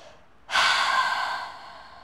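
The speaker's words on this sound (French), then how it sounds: "soit la respiration Ujjayi et à chaque expiration, allongez davantage le dos" A single breath of Ujjayi yoga breathing during a downward dog pose: after a quiet moment, a sudden close, hissing, throat-constricted airflow starts and holds steadily, slowly fading toward the end, with no talking.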